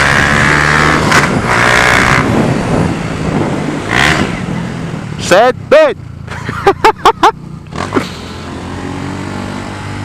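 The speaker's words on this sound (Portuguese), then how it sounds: "o escapamento ele vai fazer um pouco mais de barulho do que nas motos normal" A tuned Honda Fan 150 motorcycle with a Gemoto Racing exhaust rumbles close by, then revs in several short sharp bursts near the end, with a person talking over it.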